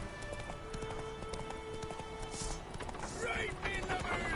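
Roach, a horse in the video game The Witcher 3, gallops in a quick, steady clip-clop of hooves, mixed with in-game effects and background sounds.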